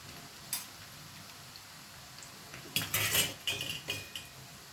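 Metal utensil clinks and scrapes against a pan as Kerala mixture snack is turned while frying, a few sharp clatters in bursts over a quiet background.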